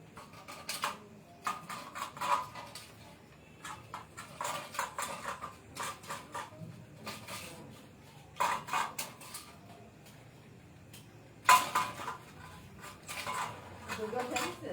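A puppy laps at a metal bowl, giving quick clustered bursts of wet clicking and tapping in short irregular runs, with soft talk nearby.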